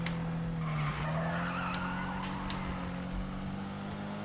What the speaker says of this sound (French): on fait un petit drift à 7000